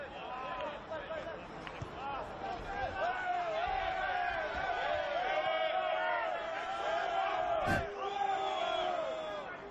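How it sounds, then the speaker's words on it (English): An agitated home crowd at an NPL men's football match between St George Willawong and Gold Coast Knights roars and jeers continuously, loud and dense, with rising shouts and a sharp whistle-like spike partway through. "Home crowd getting a little agitated there"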